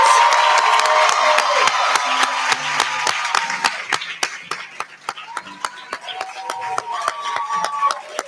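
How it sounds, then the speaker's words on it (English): A graduation crowd cheers and claps for the 2019 ODI graduates, with sharp individual claps and whoops ringing out. The crowd noise starts full and gradually thins into scattered, distinct handclaps. "If we can get one more round of applause for all of the 2019 graduates."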